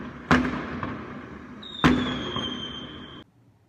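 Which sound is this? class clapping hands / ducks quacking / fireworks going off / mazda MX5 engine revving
fireworks going off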